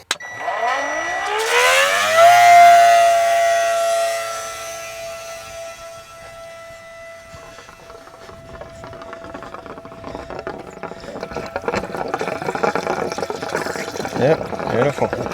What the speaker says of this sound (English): So I've just got the bag plumbed into my pump, hose coming out of the pump, going along into the caravan.